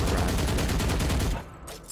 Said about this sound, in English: it's honestly just shooting at a wall or something like this